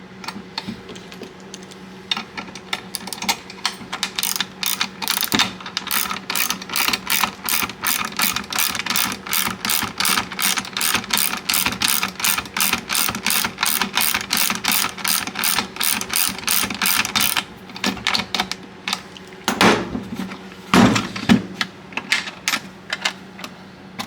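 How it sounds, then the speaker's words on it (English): A ratchet with a 10mm socket tightens a lock nut on a bolt, giving a long run of rapid, evenly spaced clicks, then a few slower separate clicks near the end. "tighten it down with the 10mm socket"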